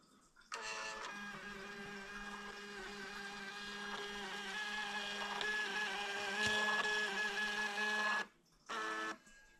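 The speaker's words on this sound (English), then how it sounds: "this is just a Bluetooth Fomamo printer, and I'm just going to say print label" A small Fomamo Bluetooth label printer whirs steadily for several seconds with a tonal motor buzz, stops briefly, then runs again for a short burst.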